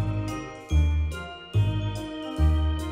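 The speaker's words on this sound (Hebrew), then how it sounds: "מערכת התראות חכמה" A bright chime-like notification alert rings out in a repeating pattern of four bell-like hits with ringing overtones, each one fading before the next, with no talk.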